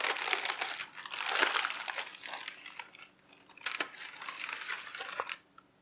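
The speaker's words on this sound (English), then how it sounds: "To remove the bread from the pan, simply lift it up by the parchment paper, and you can easily peel off the paper." Parchment paper crinkles and tears away from a baked nut and seed bread in close, continuous rustling bursts, with a short pause midway and no talk.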